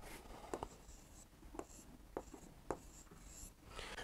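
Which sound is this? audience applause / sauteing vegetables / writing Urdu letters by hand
writing Urdu letters by hand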